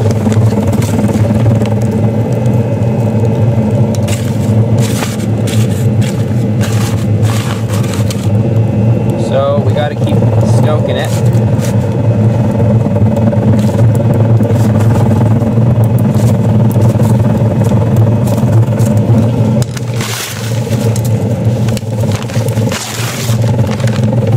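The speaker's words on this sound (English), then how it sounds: "That is the heat, the fire being sucked through the system, creating that noise." Fire is sucked through a wood-burning thermal mass heater, making a steady, loud, droning roar with a low rumble that holds throughout. A voice speaks over it at times.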